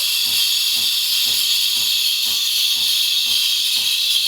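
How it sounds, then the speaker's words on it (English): The steam wand of a Sage Barista Pro espresso machine, a single-boiler model, gives a loud continuous hiss while steaming milk, with a faint regular pulsing underneath from the pump or the moving jug. "So that's me producing steam after only a few seconds"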